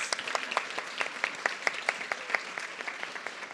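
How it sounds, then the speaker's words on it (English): Audience at a digital media exhibition event breaking into applause, a steady round of many hands clapping close by with a few sharper individual claps standing out, fading slightly near the end. "Let's do a little round of applause."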